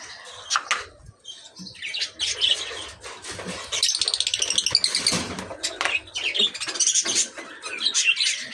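A pet bird kept close by chirps and tweets in quick, irregular bursts, with occasional sharper squawks and brief wing flutters, loud and near with no voices.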